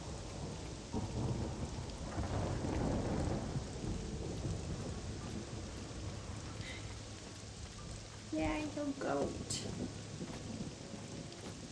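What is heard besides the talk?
thunderstorm with lightning in video game Morrowind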